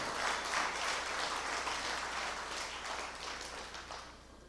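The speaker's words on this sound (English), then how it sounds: "And give them a round of applause." Audience applause at a political gathering in a school, a steady wash of many hands clapping that stays fairly even before slowly thinning toward the end, with no talking over it.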